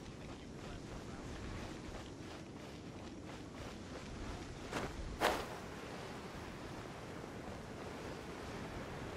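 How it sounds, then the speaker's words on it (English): Gentle waves wash steadily against a harbour in Genshin Impact under light wind and soft footsteps, with a brief louder splash or thump partway through. "The sound of the waves in this familiar port."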